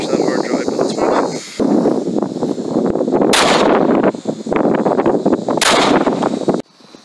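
A hollow point bullet is fired into an old hard drive, heard as loud sharp gunshot cracks about two seconds apart over continuous outdoor noise and wind, with no one talking.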